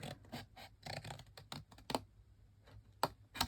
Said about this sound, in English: Bring in my snips and start on any corner you like